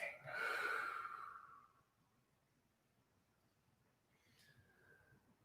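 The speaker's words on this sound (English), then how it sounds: "And we're breathing." A close, breathy exhalation rushes out for about a second, then quiet, followed by a short sharper breath near the end.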